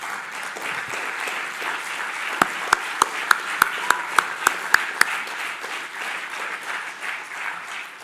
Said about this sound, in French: je crois qu'on peut vraiment les applaudir